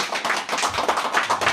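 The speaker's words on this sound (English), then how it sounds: "One applause, please." Short burst of clapping at a meeting of motor trucking associations, a modest group of hands patting in a loose, uneven rhythm, fairly close.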